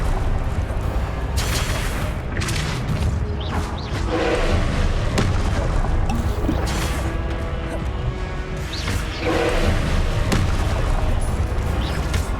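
Rapid spell blasts from Hogwarts Legacy, Confringo and Depulso, crash and boom in a dense barrage of explosive impacts and thuds, loud and continuous with repeated bursts throughout.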